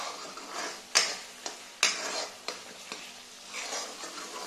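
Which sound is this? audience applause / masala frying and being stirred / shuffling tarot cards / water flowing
masala frying and being stirred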